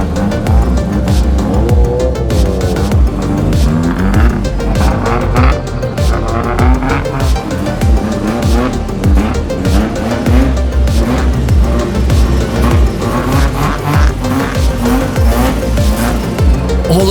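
A replica Lamborghini kit car drives into an event, engine roaring loud and continuous with squealing tyres and revving swells, close and sustained throughout with no talking.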